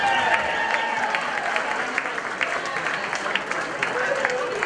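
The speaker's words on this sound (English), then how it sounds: "Have a big round of applause for Reagan and Connor." Wedding guests applauding at a reception: steady, dense clapping from a room full of people, continuous and fairly loud throughout, with scattered voices and cheers underneath.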